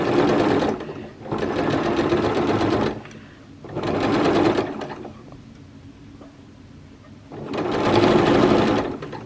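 A sewing machine runs in four loud, close bursts of a few seconds each as it back stitches a seam on a Butterick 5861 garment, with brief quiet gaps between runs and no talking.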